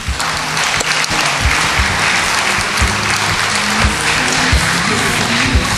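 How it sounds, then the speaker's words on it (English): A large audience at a Mr & Miss pageant finalist announcement in Bermuda applauds loudly and steadily, a dense wash of clapping with a few cheers mixed in that keeps going without a break. "Give them another big round of applause."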